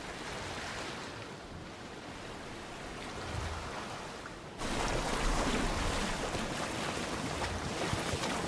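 A boat sails over sea waves in Assassin's Creed, with a continuous rushing wash of surf and wind that swells louder partway through, steady and close with no voices.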